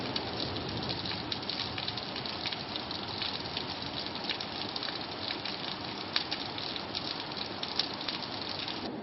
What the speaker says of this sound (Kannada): ಈ ವರ್ಷದ ಮಳೆಯ ಸದ್ದನ್ನು ಅನುಭವಿಸಿ